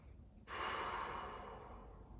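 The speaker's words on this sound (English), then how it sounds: "and take some deep breathing" A single deep, slow breath rises sharply and then holds as a soft, steady airy rush, close and quiet, taken while a lacrosse ball presses into a sore forearm during self-massage.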